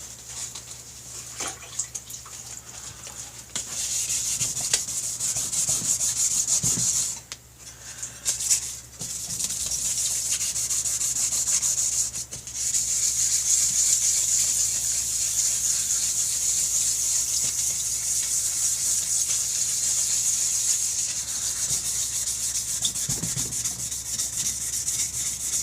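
Steady rubbing of 2000-grit sandpaper across a BigDog motorcycle oil tank top cover, a continuous near scrape with brief pauses, heard alone.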